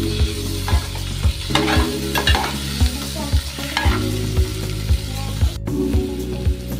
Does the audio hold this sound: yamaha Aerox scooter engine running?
no